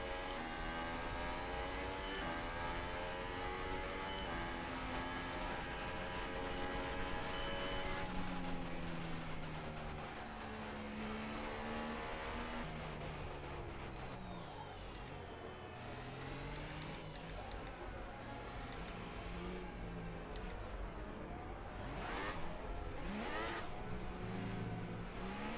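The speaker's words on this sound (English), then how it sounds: "just a couple burnouts to make sure everything is up and warm" F1 car engine revving hard and spinning its wheels in burnouts in the F1 2018 racing game, a continuous loud high-pitched whine rising and falling through gear changes, with a voice faintly under it.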